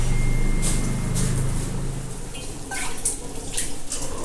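Water splashes and trickles as puffed rice is rinsed in a bowl, with steady running-water hiss and intermittent sloshing bursts, close and fairly loud, without speech.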